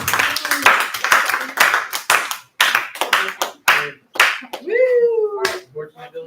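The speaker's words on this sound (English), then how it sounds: "let's give them a round of applause" A small audience at a maker faire claps in a brief, sparse round. Separate close hand claps come in uneven bursts with short gaps, and a voice sounds near the end.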